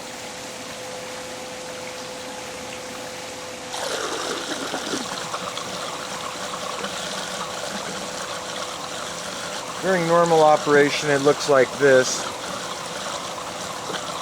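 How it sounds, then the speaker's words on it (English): Water draining from a pipe back into a backyard pond, a steady trickling stream under a person speaking, with a louder splashing rush near the end. "That water there is draining back into this other pond."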